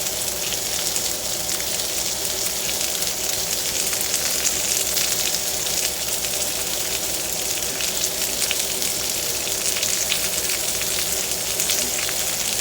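Steak sears in a hot pan with a dense, unbroken sizzle and crackle that fills the whole stretch, loud and close with no pauses.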